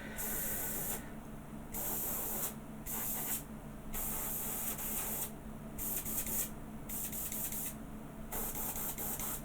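An airbrush sprays paint onto a plastic model kit in steady hissing bursts, stopping and restarting several times at close range with no talking.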